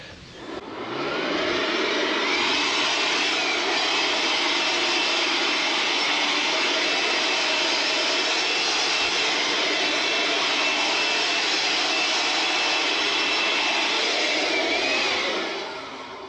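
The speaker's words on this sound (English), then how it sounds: "Ryobi workshop blower." A Ryobi workshop blower runs at steady, loud full power for about fifteen seconds, a continuous rushing whine with no talk over it, starting up and cutting off at either end.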